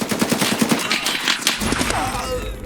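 Rapid automatic gunfire from a PMC player in a first-person shooter game, a fast burst of close, loud shots followed by more scattered rattling fire and a low rumbling tail.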